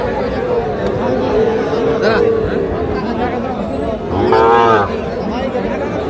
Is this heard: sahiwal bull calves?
yes